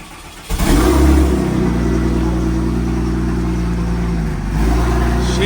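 A 1992 Porsche 964 Turbo, wrecked, cranks and fires up, then its flat-six revs hard and settles into a loud, steady high idle with a brief dip near the end, close by and with no talking.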